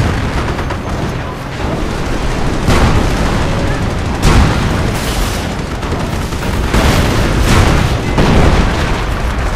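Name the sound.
artillery fire in Company of Heroes video game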